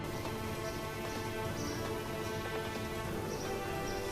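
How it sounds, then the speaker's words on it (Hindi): Torrential monsoon rain pours down in Narowal during a thunderstorm, a steady, dense hiss of heavy rainfall with scattered patters and drips, continuous and unbroken, with no voices. "गरज चमक के साथ मूसलाधार बारिश"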